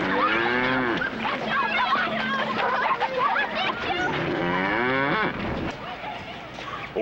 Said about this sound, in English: Old Sarah's a good old cow